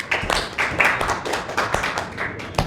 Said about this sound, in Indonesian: Tepuk tangan untuk Laras.